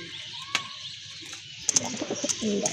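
Pigeons in a coop give soft, low coos and a few brief chirps, with a light flutter or scuffle near the end, heard fairly close against a quiet background.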